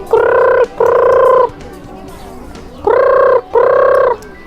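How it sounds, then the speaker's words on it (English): A lone parrot in a park gives two pairs of loud, harsh, repeated calls, each pair separated by a short pause, with faint background ambience between. "Oh, we have a parrot here, but it's alone."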